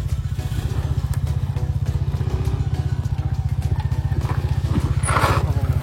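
A motorcycle rides off-road, its engine throbbing loud and near in a steady, fast pulsing rhythm, with a brief clatter and rising rev near the end.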